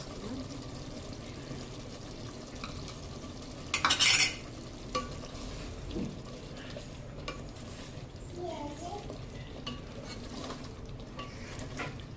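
Egg biryani mixture is stirred in a pan over low sizzling, with scraping and a brief clatter of the pan near the start, close and fairly quiet, while a voice talks faintly in the background.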